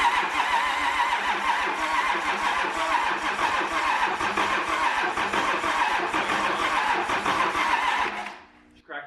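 An 8.3 Cummins diesel with a thrown rod, fitted in a combine, cranks and fires into a loud, steady, rough running clatter lasting several seconds, then cuts out abruptly near the end.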